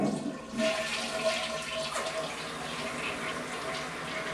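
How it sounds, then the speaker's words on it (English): A toilet tank refills after a new fill valve is installed, with a steady rushing hiss of water running alone for several seconds. "check to ensure the tank is filling with water"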